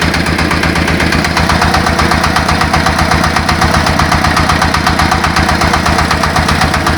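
A mini tractor built from a Zubr walk-behind tractor idles steadily and loudly, with a rapid even chugging throb and no voices.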